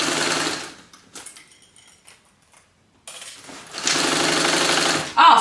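Sewing machine stitching a Brooklyn bag, one sustained run of stitching early, a quiet pause with faint handling, then another long steady burst ending in a short louder rattle.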